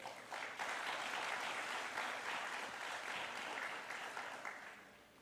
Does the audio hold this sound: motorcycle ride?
no